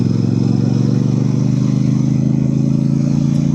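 A Royal Enfield Super Meteor 650 motorcycle rides along on an early cloudy morning, its engine giving a loud, steady low thumping drone close to the listener, with no talk.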